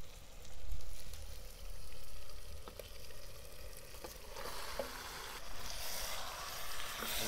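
Mutton frying in a pot with onion and tomato gives a continuous close sizzle and bubbling hiss, with a few stirring knocks, rising into a louder, brighter spitting toward the end; no voices.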